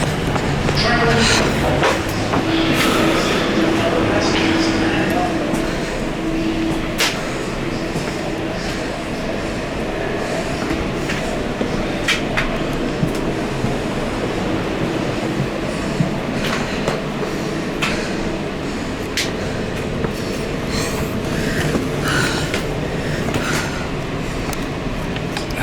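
From inside a moving train, steady rolling rumble and rattling carriage noise carry on throughout, with scattered clicks and knocks over the wheels and a faint voice now and then.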